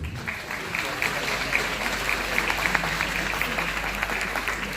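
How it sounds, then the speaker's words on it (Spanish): Conference audience at an international obstetrics congress applauding a guest being seated at the head table, dense steady clapping from a large crowd, sustained and even throughout with no clear voice. "lo recibimos con un caluroso aplauso."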